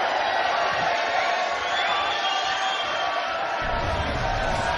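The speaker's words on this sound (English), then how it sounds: "Crowd love that." A darts crowd at a Grand Slam of Darts quarter-final cheers and whoops in a big arena, a loud, steady roar of many voices.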